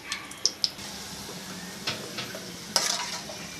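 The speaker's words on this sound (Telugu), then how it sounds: "నెయ్యిలో బాగా వేపుకోవాలి." Bread pieces frying in ghee in a pan, a steady soft sizzle broken by a few sharp clicks and scrapes of a utensil stirring.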